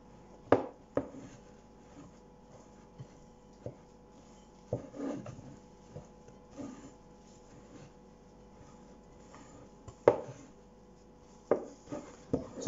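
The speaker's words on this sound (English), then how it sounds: "So I have a spoon here, and then we're just going to mix this in" A spoon works icing sugar into a Biscoff tray bake mix in a bowl, making quiet dull knocks and soft scraping strokes at an uneven pace, with a few sharper taps.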